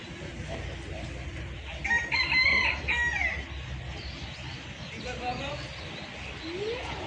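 A chicken clucks and squawks in a brief flurry near the middle, with people talking over a noisy outdoor background throughout.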